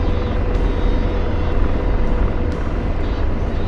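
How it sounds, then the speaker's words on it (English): A helicopter cruising in efficient trim gives a steady, loud rotor and engine drone that runs unbroken throughout, with no talking. "It's a helicopter, you can burn a little extra fuel."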